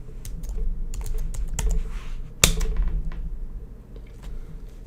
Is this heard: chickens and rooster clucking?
no